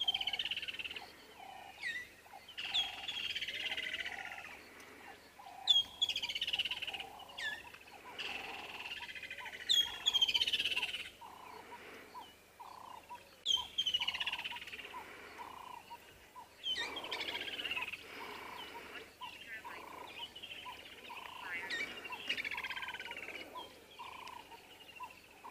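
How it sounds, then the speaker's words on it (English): Birds call and chirp at sunrise after rain on a wildlife safari, with several overlapping bright chirps, tweets and repeated whistled notes coming steadily from close to mid distance, with no talking. "the birds are awakening up because it's been raining"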